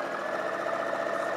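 A sewing machine stitches a fabric dart with a steady, fast mechanical whirr and rapid needle chatter, close and moderately loud, running without a break and with no talk.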